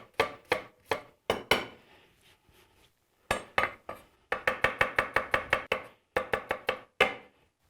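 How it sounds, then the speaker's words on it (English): A dry onion chopped quickly with a knife on a cutting board, sharp close knocks in fast bursts with brief pauses between runs, no talking. "Just chop it up quick."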